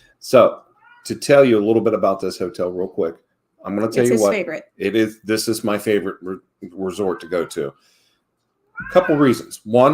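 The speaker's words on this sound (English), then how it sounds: "I'm sorry about the cat yelling." A cat yells and meows in short wavering cries, mixed in under continuous, close, loud talking by a person.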